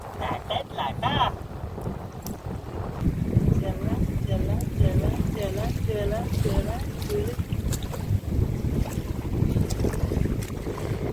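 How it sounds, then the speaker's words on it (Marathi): Sea waves wash at Alibag beach in a continuous low surging roar mixed with wind buffeting the microphone, while a voice and other people talk over it. "लाटा."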